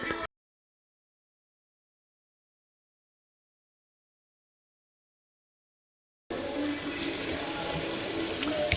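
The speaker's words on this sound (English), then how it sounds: "So we're rinsing 2 cans of sauerkraut" Tap water runs steadily, rinsing two cans of sauerkraut in a kitchen sink; a near, continuous flow starts abruptly after a long silent gap and carries on to the end.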